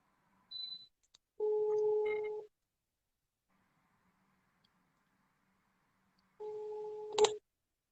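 A telephone call rings back through a line, giving two long steady electronic ring tones separated by a silent pause, with a short tone blip and a click at the start and a brief sharp knock at the end.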